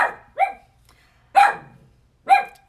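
A dog that is medicated and a little loopy barks three times, sharp and close, with short pauses between the barks and near silence around them.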